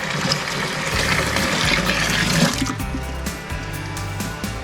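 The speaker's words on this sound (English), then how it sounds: "I'll just add some water and get to wash out whatever's left of the mash" Water poured into a jug to rinse out leftover mash for a smoked dark ale (Rauchbier) home brew, a steady, loud splashing pour that continues without a break and eases off slightly toward the end.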